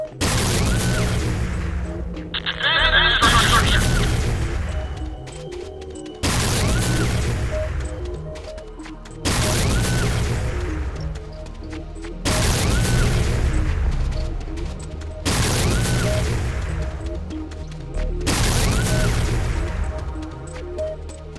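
Gunfire and explosions from the video game C&C Renegade as a GDI harvester comes under attack, loud repeated bursts of firing and blasts in several roughly three-second waves, with no talking.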